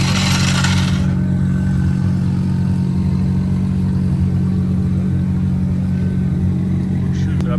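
A drift car engine idles steadily on a lift at a Japanese drift matsuri paddock, warming up the drivetrain with a loud, continuous low drone and a brief burst of noise at the start.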